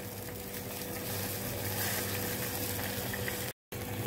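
Potato pieces boil in water in a pan, giving a steady close bubbling and simmering hiss that swells slightly midway, with no talk over it.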